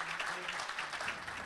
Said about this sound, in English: let's please give him a huge round of applause